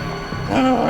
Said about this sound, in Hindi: ये कुत्ता रो रहा है। मालिक की मौत का दुख है इसे।